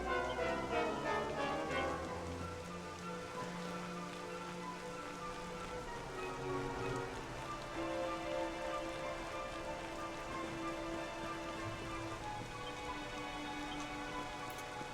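Video game rain falls as a soft, constant patter and hiss under sustained tonal musical notes, fairly quiet and unbroken for the whole stretch, with no voices.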